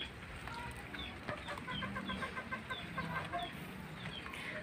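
A white Kelso gamefowl rooster clucks in a repeated series of short, fairly faint calls over a steady background hum, with other chickens nearby.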